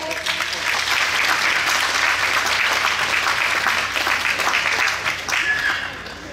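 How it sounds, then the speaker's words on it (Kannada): Crowd at a cricket trophy presentation for a Ganesha festival league applauds steadily, a dense wash of many clapping hands that holds for several seconds before tapering slightly at the end. "ಮತ್ತೊಮ್ಮೆ ಚಪ್ಪಾಳೆ ಬರಲಿ"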